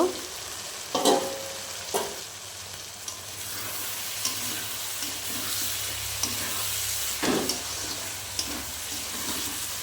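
A pond crab curry with potato and papaya sizzles steadily in the pan as its liquid cooks down. A few sharp scrapes of stirring cut through the continuous hiss.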